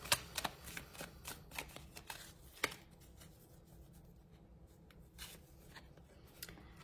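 Tarot cards riffle and slap in quick, dry bursts at the start, then a few softer flicks and taps come as single cards are drawn. The sound is close and quiet, with no voices.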